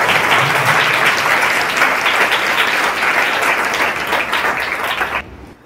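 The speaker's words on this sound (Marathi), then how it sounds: "आपण जोरदार टाळ्या वाजवून त्यांचं अभिनंदन करूया." An audience at a school gathering breaks into loud, dense applause that holds steady for several seconds before fading out abruptly.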